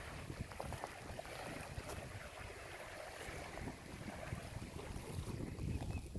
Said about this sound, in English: I'm pretty sure the wind was kind of rough just then.